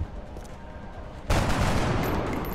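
In the video game XCOM with the Long War mod, quiet rumbling background suddenly gives way to a loud, sustained burst of dense gunfire that continues steadily to the end.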